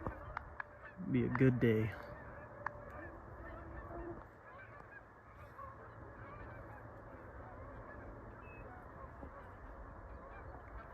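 Canada geese honk loudly in a brief cluster near the start, then fade to quiet background hum with a soft voice speaking.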